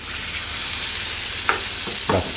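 Loud, steady sizzling of steak searing in a hot pan, with a couple of brief clicks and shuffles near the end.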